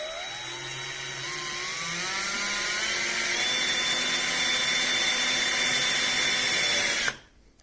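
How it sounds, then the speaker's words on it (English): A power drill whines steadily for about seven seconds, its pitch rising slightly as it drives a screw in for a table clip, then stops abruptly. "start drilling."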